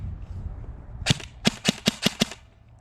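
Krytac airsoft rifle test firing indoors, six sharp close shots in a quick uneven sequence after a quiet lead-in.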